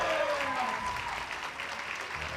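Sustained applause from a large crowd at an IFSC Oceania Championships bouldering final, dense and steady throughout, with a commentator's voice faintly underneath.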